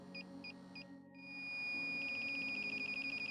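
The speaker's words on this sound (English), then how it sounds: "If a leak is detected, AST100 alarms and the high or low indicators will flash." An INFICON AST100 refrigerant leak detector sounds its alarm: a few spaced high beeps, then a brief gap and a steady tone that turns into a fast, continuous run of rapid beeps, loud and close.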